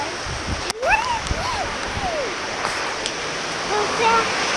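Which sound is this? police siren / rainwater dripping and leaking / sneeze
rainwater dripping and leaking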